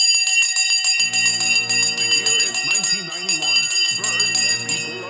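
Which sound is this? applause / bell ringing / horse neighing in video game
bell ringing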